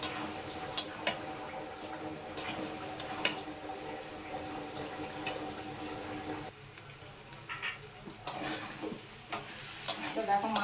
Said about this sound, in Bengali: মাছটা আমার প্রায় হয়ে যাচ্ছে ভাজা ভাজা হয়ে গেছে দেখতেই পাচ্ছ